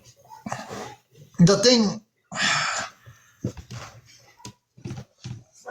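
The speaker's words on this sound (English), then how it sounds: "I wanted to see what my dogs are barking at." Dogs barking and whimpering in short bursts, mixed with someone talking at fairly close range and quiet gaps between sounds.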